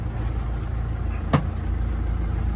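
Interior of a moving car carrying passengers: a steady, low engine and road rumble continues throughout, broken by one sharp click midway, with no talking.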